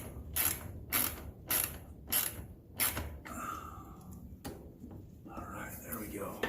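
A clamp being fitted and ratcheted tight on a blow-off valve of a Maverick X3 Evo side-by-side, several sharp rhythmic ratchet clicks in a row, then softer fiddling clanks, close up with quiet talk.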